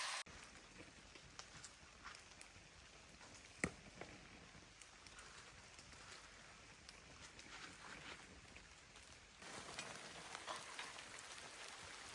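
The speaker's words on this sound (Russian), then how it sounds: "О, вообще дождь начался." Faint, steady rain patters on a surface at a forest cabin, a soft continuous hiss with a few louder drops, growing slightly heavier toward the end.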